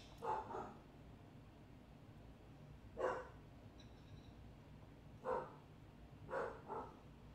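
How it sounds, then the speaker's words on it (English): A dog gives four short, separate barks spaced a couple of seconds apart, faint and a little distant over a quiet room background, with no talk. "Why he always want to bark and be annoying in the worst part of the day?"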